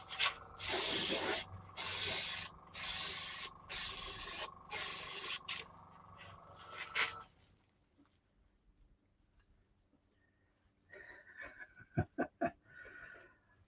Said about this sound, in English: Spray into the cloth till I'm getting colour.